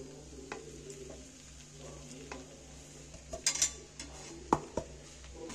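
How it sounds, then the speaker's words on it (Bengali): A vegetable chop filling is stirred in a pan over low gas, a soft sizzle underneath with scraping strokes and a few sharp metallic clinks of the spoon against the pan. "এইবার আমি গ্যাসটাকে আস্তে করে দিয়ে এটা নাড়তেই থাকতে হবে।"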